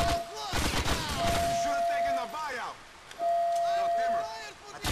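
Rapid gunfire from GTA IV: The Ballad of Gay Tony during a train heist mission, dense shot bursts over a steady tone and whistling effects, with someone talking over the shooting.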